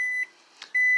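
A microwave oven beeps while reheating cooked rice: a long, steady electronic tone, a short pause with a faint click, then the tone again, close and clear.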